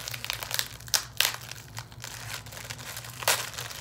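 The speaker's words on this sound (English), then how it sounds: "I'm gonna try and get it out of the little plastic." Thin plastic wrapping crinkles as a sleepwear sleep mask from a Hot Topic mystery bag is pulled free, with close, loud, irregular crackling bursts and rustles and no talk.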